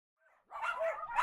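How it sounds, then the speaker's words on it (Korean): Dogs barking at an illegal puppy breeding farm in rusted metal pens beside the Nakdong River: a faint yip followed by a sustained, close, loud bark or howling whine, with no talk. "녹슨 철제 구조물 안에 애완견들이 가득합니다"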